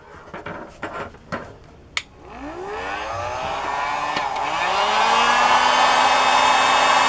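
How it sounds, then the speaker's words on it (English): Heat gun blowing hot air while working on a DIY grounding plug, starting after a few clicks and handling knocks, then a steady rising whoosh with a whine that grows louder and fills the rest. "and then use your heating gun."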